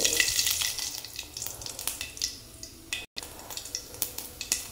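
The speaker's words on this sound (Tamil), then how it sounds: "இப்போ வடச்சட்டி வச்சு அதில் கொஞ்சம் எண்ணெய் ஊற்றிக்கலாங்கன்னு. எண்ணெய் காஞ்சதையுமே கடுகு போட்டுக்கலாங்கன்னு." Mustard seeds crackle and pop in hot oil in a pan as tempering for tomato rasam, a steady close sizzle dotted with sharp, irregular snaps.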